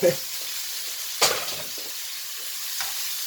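Mushrooms sautéing in a pan, a steady close sizzle with a sharp stirring scrape partway through and a brief voice at the start.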